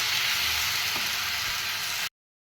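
Vegetable fried rice with soy sauce and black pepper frying in a pan, a dense, loud, continuous sizzle with a couple of faint stirring knocks before it cuts off abruptly.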